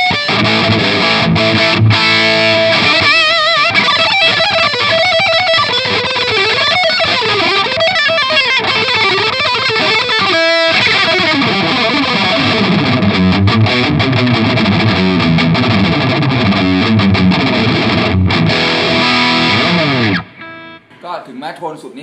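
Electric guitar played through a Suhr Riot distortion pedal, a loud, continuous stretch of heavily distorted chords and riffs for about twenty seconds before cutting off.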